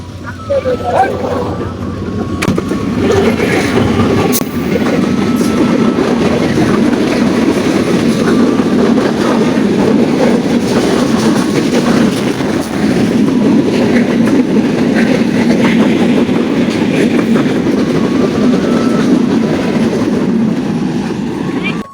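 A train passes close by in Rajbari, a loud, sustained rumble of wheels and carriages with rhythmic clattering that holds steady throughout.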